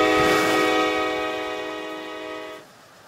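A BBD LRC high-speed train in the RO-Scale Sandbox game sounds a loud, sustained horn chord close by, the steady tone fading slightly before cutting off sharply near the end.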